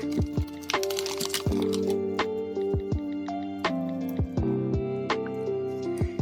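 Plastic and cardboard crinkle and snap in short bursts as Hot Wheels Porsche toy car packages are opened up close, with scattered crackles and pops over a quiet room tone.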